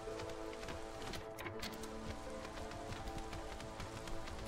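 Drizzle falling in the video game Against the Storm, a steady patter of raindrops on surfaces with faint musical tones beneath, continuous and moderately quiet.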